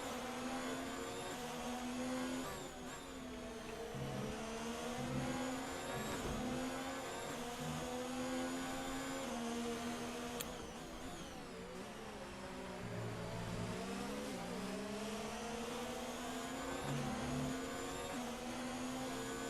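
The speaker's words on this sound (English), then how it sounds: "As we see Matt Dabry trying to catch up to the cars in front" Race cars in an AFR State Of Origin event circuit race drive past continuously, loud engines droning and shifting pitch as they chase each other around the track, with no talk.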